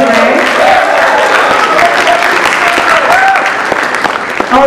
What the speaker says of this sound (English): we do need to give a big round of applause, first of all, for our travelers here and their presentation today